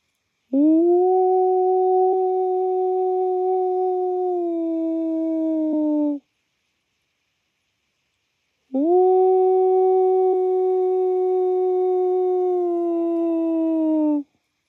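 A human voice imitates a long sustained howl, two steady drawn-out wails separated by a short pause, loud and close.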